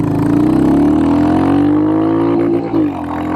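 A Royal Enfield Hunter 350 motorcycle engine revs steadily upward, loud and close, climbing to the rev limiter, where the note stutters and cuts briefly before dropping back, with wind noise underneath.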